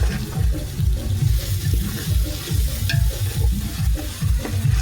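Spice paste of cumin, coriander and mixed masala frying in oil for a duck curry, stirred briskly with a rhythmic scraping and sputtering sizzle, close and continuous.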